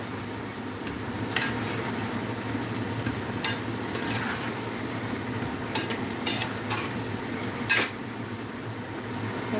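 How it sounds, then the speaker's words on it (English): Steady stirring of potato pieces in a cooking pot on a stove, a continuous soft scraping and shuffling with occasional sharper utensil clicks against the pot, close and moderately quiet. "Add my potato pieces. Give it a good stir."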